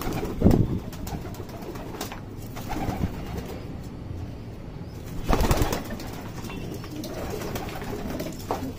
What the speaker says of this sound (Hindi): तो भाई ये कुछ ऐसे कबूतर हैं हमारे।